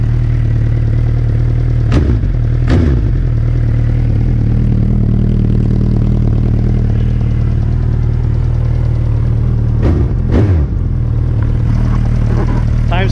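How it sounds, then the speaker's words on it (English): A 2020 Suzuki Hayabusa with cheap slip-on exhausts and a slight exhaust leak idles close up, a steady low rumble with clattering mechanical noise and a few sharp pops or ticks breaking through at intervals. "I feel a little exhaust leak here"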